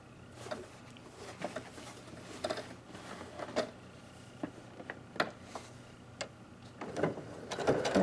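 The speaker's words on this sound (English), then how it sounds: "I'm going to go ahead and sew across this end." A sewing machine stitching across the end of a fabric face mask, irregular light clicks and taps spread over several seconds, fairly faint and close, building slightly at the end.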